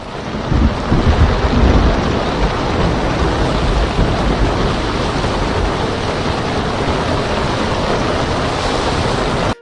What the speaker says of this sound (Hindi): उसी रात तेज आंधी आई।